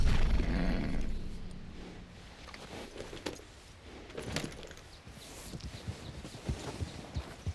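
White Arabian horse hooves clop steadily on the ground in Red Dead Redemption 2, close by and moderately loud, with jangling tack and faint ambient noise underneath.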